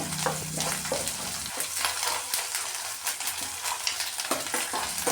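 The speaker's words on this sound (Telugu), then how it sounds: "ఆనియన్స్ వేసిన తర్వాత మనం ఒక టూ త్రీ మినిట్స్ బాగా ఫ్రై చేయాలని మీడియం ఫ్లేమ్లో ఉంచుకొని" Onions and ginger garlic paste fry in a pan over a medium flame, a close, steady sizzle broken by repeated scraping stirs of a spoon.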